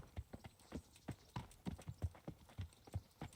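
Horse hooves clip-clop at a steady trotting rhythm in the medieval video game Kingdom Come: Deliverance, a series of distinct, fairly quiet thuds with no talk over them.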